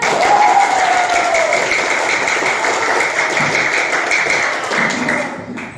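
Classroom students applauding together at a school lesson, a steady dense wash of clapping that holds at even loudness throughout before thinning abruptly at the very end.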